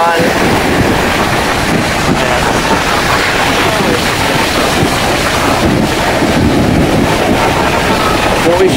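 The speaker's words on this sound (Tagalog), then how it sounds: "Lalaki ng alon." Big sea waves surge at Barangay Bugsana with strong wind buffeting the microphone, a loud, continuous roaring rush throughout, with a voice speaking faintly underneath.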